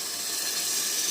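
Water poured into a pan of well-fried masala paste and spice powder for basmati colour rice, a steady close-up rush of pouring water with a faint sizzle throughout the short moment, no talk.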